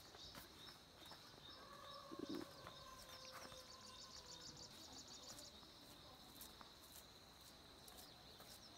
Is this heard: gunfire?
no